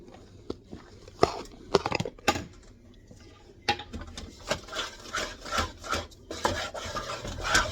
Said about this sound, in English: Continuously stirring on it.